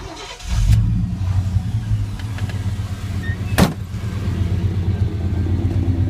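A 1990 GMC truck with true dual exhaust starts up and idles with a deep, loud burble, rising briefly in a sharp rev before settling back to a rumbling idle close by.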